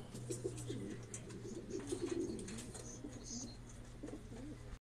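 Racing pigeons at a loft coo softly and repeatedly close by, with a steady low hum and a few faint chirps behind them.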